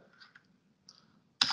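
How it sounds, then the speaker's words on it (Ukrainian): A single space bar press on a computer keyboard while entering a formula in Mathcad, a sharp close click at the end after quieter key taps. "пробел"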